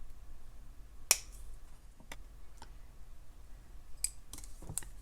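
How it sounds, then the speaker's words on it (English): Cutters snip off excess jewellery wire while a necklace is made. A few quiet, sharp clicks come up close, separated by short gaps, over a faint low hum. "Snip off the excess."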